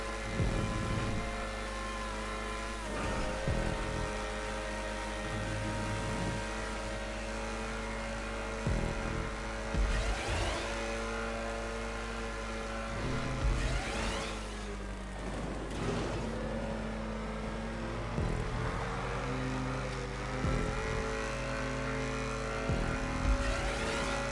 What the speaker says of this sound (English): as you can hear, that engine is very strangled